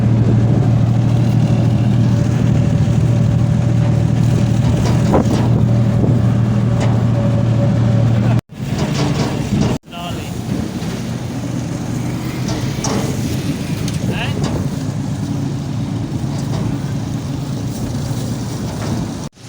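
A tractor engine runs steadily and loudly on a village road in India, a low droning hum with rattling and road noise and a brief dropout partway through.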